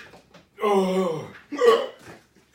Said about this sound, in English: No, the hiccups, that's even worse.